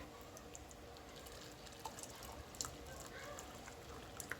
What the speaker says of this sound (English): pour some hot water in there